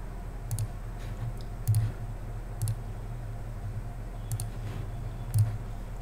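A computer mouse clicking several times at a desk, crisp single and double clicks spaced irregularly over a faint steady background hum, with no talking.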